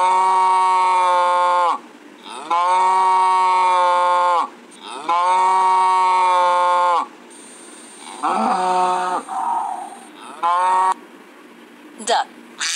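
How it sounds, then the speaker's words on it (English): A cow moos repeatedly in long, loud, clear calls separated by short pauses, with a few shorter, rougher moos near the end. "Cow, do you like milk?"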